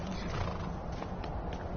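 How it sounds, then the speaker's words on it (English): A horse in the video game Skyrim VR whinnies over the clatter of its hooves, a loud, close, continuous burst of neighing and stepping with no talk. "You are a weird horse."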